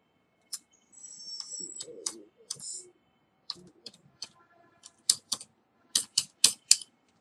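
Clicky keystrokes on a computer keyboard while entering invoice text in an Excel spreadsheet, landing in short irregular bursts, close and fairly crisp, with a few quicker runs near the end; no one speaks.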